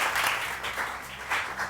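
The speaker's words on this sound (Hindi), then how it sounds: "बहुत सारी तालियां, थैंक यू।" Studio audience applauding on a Pakistani morning TV show, a short burst of steady clapping that rises and falls slightly, fairly close and alone with no talk over it.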